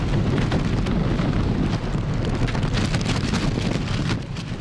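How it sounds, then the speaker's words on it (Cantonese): Strong typhoon in Hong Kong brings heavy, steady rain and roaring wind buffeting the microphone, a loud dense wash of noise that continues unbroken without letting up. "今年第一個襲港嘅強颱風紅霞喺午夜過後開始顯現威力。"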